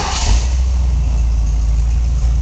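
The V8 engine of a 1976 Ford Bronco rumbles steadily at idle close by, with a deep, even tone from its 2-into-1 exhaust and a brief rise in revs at the start.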